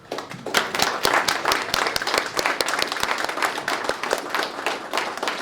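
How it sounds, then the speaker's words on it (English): Staff and faculty receive a steady round of applause from a graduation celebration audience, dense hand claps filling the room at close range and holding strong throughout. "I'd like to give you guys a round of applause too"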